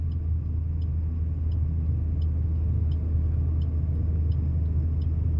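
A car moves along a road with a steady low engine rumble and road noise, close and constant, with a faint rhythmic ticking on top and no talk.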